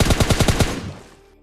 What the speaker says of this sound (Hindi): वो भाई साहब ड्रॉप को देके गोली चला रहे हैं।